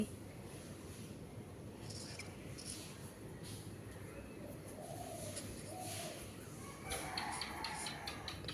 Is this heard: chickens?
yes